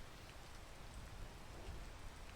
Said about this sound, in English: wait for the rain to stop